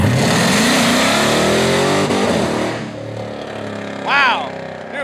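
A 707 hp Hellcat engine in a 1968 Dodge Charger roars loudly at launch, its pitch climbing through the revs, then fades into the distance while a brief voice or squeal rises near the end.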